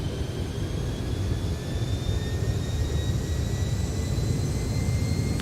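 The MD-11 jet engines of an X-Plane 11 airliner hold takeoff power as a steady, dense roar with a faint rising whine on top, loud and unbroken throughout.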